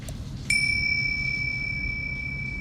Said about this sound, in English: Free meditation bell sound effects.